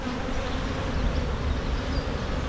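Honey bees, workers and thicker-bodied drones, hum at an open beehive during a hive inspection, a dense steady buzz of many insects close by, filling the whole moment without voices.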